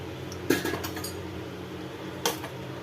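A metal frying pan clanks down onto a stovetop with a sharp clatter, followed a moment later by a second lighter metallic knock.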